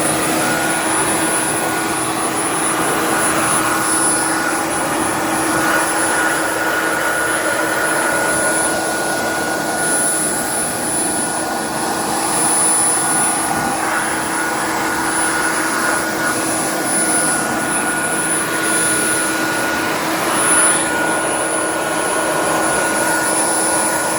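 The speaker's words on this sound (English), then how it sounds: "you take your hair dryer" A loud, steady motorized blowing whir with a high-pitched whine from a hair dryer drying water off a Forgeline car wheel, running continuously without change from start to finish.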